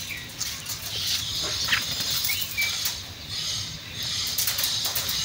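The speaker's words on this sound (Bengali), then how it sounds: "গুড্ডু সব সময় খাঁচার ভিতরে লাফালাফি করে" A caged myna hops about and flaps its wings, making scattered light rustles, patters and wing flutters close by, with a few short chirps mixed in.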